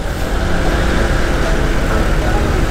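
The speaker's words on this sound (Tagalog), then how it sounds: "yeah, ang traffic ngayon dito." Road traffic surrounds a Honda PCX 160 scooter on a night ride, a loud, steady wash of engine noise and wind rumble with no breaks.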